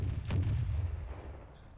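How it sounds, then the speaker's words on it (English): A Garry's Mod airship gun fires an explosive shell in a single heavy, booming report that rolls off into a low rumble over a quiet background. "So we can lock it here and we can fire."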